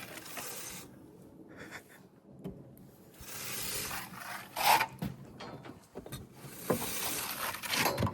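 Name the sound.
scraper scratching lines into stone veneer scratch coat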